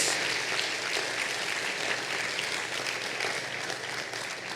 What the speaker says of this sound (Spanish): Démosle un aplauso al que nos ha mantenido fieles